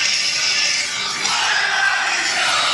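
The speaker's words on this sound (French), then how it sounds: "Mais la foule est là en train de chanter comme des malades." A packed arena of wrestling fans at AEW Fyter Fest 2020 sings along to a wrestler's entrance song, making a loud, dense, continuous roar of massed voices throughout.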